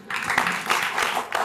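Audience applause at a Marathi stage show, a steady burst of clapping lasting about a second and a half with no speech over it.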